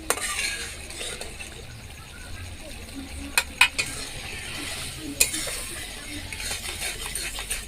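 Momo sauce with a spoonful of sugar being stirred in a pan, a soft steady scraping with a few sharp clinks of the spoon against metal, close and moderately quiet.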